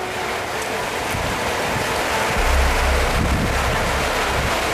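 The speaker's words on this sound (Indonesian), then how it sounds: "Ini suasana hujan ya" Steady outdoor rain falling in the early afternoon, a constant hiss with a low windy rumble that swells briefly midway, with no voices heard.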